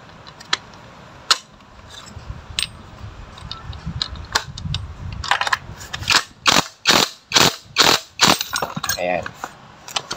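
A socket wrench on an extension ratchets a nut loose on a motorcycle clutch lining assembly, starting with scattered clicks and building into a run of loud, evenly spaced close-up ratchet strokes.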